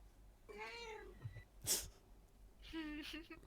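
A person imitates a cat, giving two drawn-out meows with a short breathy puff between them, close and fairly quiet.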